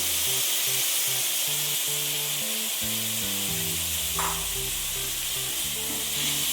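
Vegetables fry in olive oil with broccoli, ginger and garlic, giving a loud, constant sizzle and hiss throughout, with background music.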